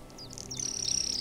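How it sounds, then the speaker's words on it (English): Chirping bird calls from a parrot in a ghost-hunting adventure game, a run of quick high tweets that swells into a steady, fairly loud warbling trill near the end, heard alone with no talk. "This must be Jasper, the parrot."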